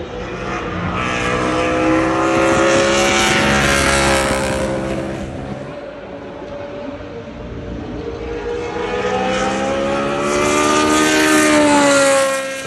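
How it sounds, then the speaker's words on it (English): BRM V16 racing car screams around Silverstone circuit, a high-pitched harmonic engine howl rising and falling as it passes, loud and sustained, dipping mid-pass and swelling again. "We saw and heard the BRM V16 ripping around Silverstone."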